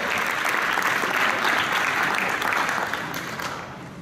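Loud, dense applause from a crowd at a municipal culture award ceremony, steady and full before easing slightly in the last second.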